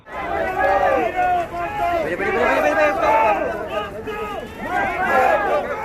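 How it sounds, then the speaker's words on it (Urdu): Thousands of UMNO party supporters chant slogans outside a courthouse, a dense crowd of raised voices rising and falling in repeated waves, loud and continuous. "ان کی سیاسی جماعت امنو کے ہزاروں کارکنوں نے ان کے حق میں نعرے لگا کر ان کا استقبال کیا"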